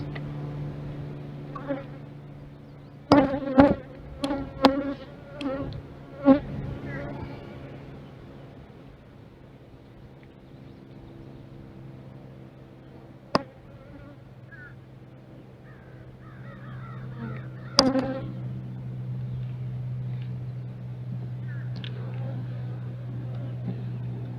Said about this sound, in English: This hive might be queenless.